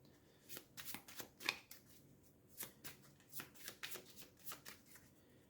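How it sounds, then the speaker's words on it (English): Crisp riffle shuffles of a deck of board-game cards, a quick series of flurries and taps at close range with no talking. "Okay, I'm going to give a shuffle and a cut."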